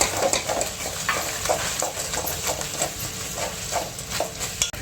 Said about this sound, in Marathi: सांबार मसाला आणि गोडा मसाला हे दोन्ही मसाले मिक्स केलेले हे टाकायचे छानपैकी हलवून घ्यायचं